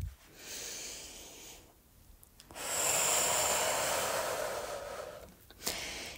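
Intense, full breaths drawn during a guided breathing exercise: one long breathy inhale, a short pause, then a louder sustained exhale, close and alone with no talk.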